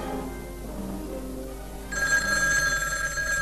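An indoor telephone bell rings out clearly and alone. A quieter ring is followed by a louder, bright metallic trill that continues to the end.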